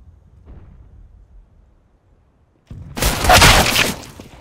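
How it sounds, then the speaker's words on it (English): Flashbang grenade in the shooter game CS:GO going off after a quiet moment, a sudden loud, sharp burst with a harsh, crackling tail that fades over about a second. "Flashbang."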